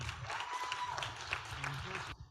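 Brief applause for Dr. Ken Wilson, a trauma surgeon, during a violence prevention town hall webinar, faint and thin clapping with some voices underneath, cutting off abruptly near the end.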